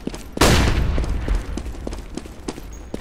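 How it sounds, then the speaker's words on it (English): In Counter-Strike GO a flashbang bursts with one loud, sharp bang near the start, followed by scattered gunshots and clicks from the match continuing in the background. "I'm throwing a flashbang."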